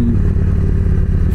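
A motorcycle engine rumbles loud and close in a short, heavy low-pitched burst with a slight rattle, heard alone without talk.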